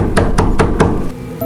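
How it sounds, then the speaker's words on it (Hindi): Knocking on a window on a rainy night: four evenly spaced, loud knocks close by over a steady background hiss of rain, then a brief quiet tail. "खिड़की पर किसी ने दस्तक दी।"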